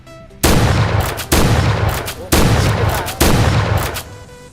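Four heavy blasts from a UTS-15 pump shotgun in the online shooter Point Blank, each a sharp loud boom with a short decaying tail, spaced about a second apart.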